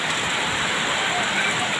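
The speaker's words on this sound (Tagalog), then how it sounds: "Pabugso-bugso yung ulan natin, may kasama pang hangin." Gusty rain driven by wind falls steadily outdoors, a dense, even hiss of drops on surfaces that holds constant throughout with no voices.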